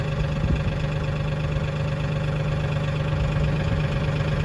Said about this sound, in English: It's called a tractor.